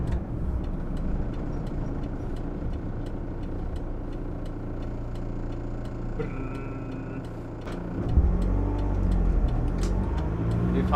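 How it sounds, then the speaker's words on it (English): A VW T3 Syncro van with a repaired 094 gearbox driving along, its engine droning steadily from inside the cabin with faint ticking, then a clunk and louder rumble as it shifts into second gear. "So let's go. Second gear shifts nicely and it works really good."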